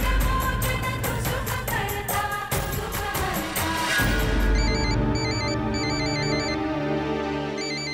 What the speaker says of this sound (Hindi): ये भाभी बार बार फोन कर रही हैं।